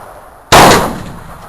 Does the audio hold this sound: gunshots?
yes